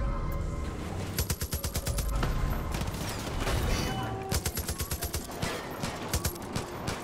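A big gun in Far Cry 5 fires rapid bursts of loud, close shots in quick rhythmic volleys, over a busy backdrop of game noise and engine rumble.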